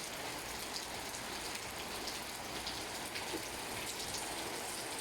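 Steady rain pours down in Malaybalay, a dense hiss of drops hitting surfaces close by, continuous and fairly loud with no talking.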